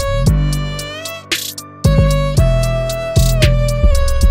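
A pitch-corrected violin sample plays a melody in stiff, perfectly level notes with an artificial, robotic quality, broken by a brief noisy gap.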